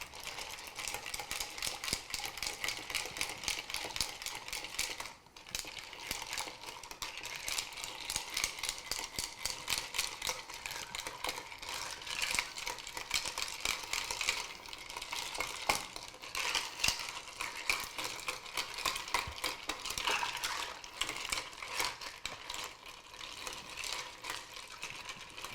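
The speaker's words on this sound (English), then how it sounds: "we're just gonna stir this down to temperature" A Brandy Alexander cocktail being stirred down to temperature at home: a dense, continuous rapid rattling and clinking of ice against glass, close and fairly even, with a brief pause near the start and no talking.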